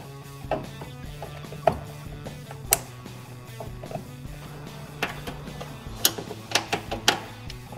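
Push-pin trim clips are pried out with a flathead screwdriver on a 2019-2022 Sierra 6.2L. Close, sharp clicks and snaps come at irregular intervals over a low steady hum.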